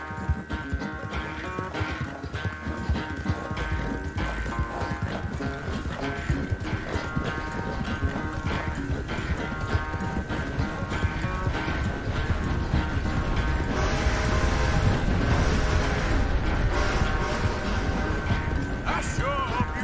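Horse hooves clopping at a steady canter in the Red Dead Redemption 2 game, a continuous rhythmic beat under a busy in-game soundscape with music and occasional creaks, fairly close and loud throughout.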